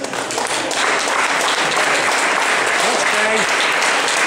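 Sustained applause from an audience at a Grand Prix 2014 awards ceremony in Cabaj-Čápor, steady and fairly loud for several seconds as a podium finisher is honoured, with faint voices mixed in.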